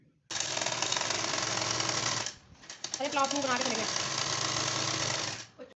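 A sewing machine runs a straight seam through blouse fabric in loud, fast continuous stitching, pauses briefly, then starts again and runs steadily before stopping, with a voice faintly audible over the machine.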